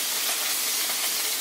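Corned beef brisket sizzles in a frying pan with a dense, steady, close hiss that carries evenly through the short moment.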